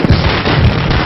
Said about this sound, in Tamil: யார் அவன் மனுஷனை நிம்மதியா தூங்க விடாம வெடிய போட்டது?